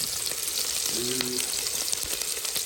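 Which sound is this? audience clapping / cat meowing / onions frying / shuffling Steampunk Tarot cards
onions frying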